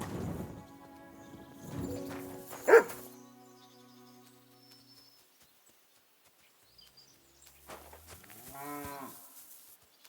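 A dog barks in the Kingdom Come Deliverance 2 video game: a quick burst of barks near the end follows quiet ambience and a single sharp knock earlier on.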